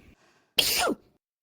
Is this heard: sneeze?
yes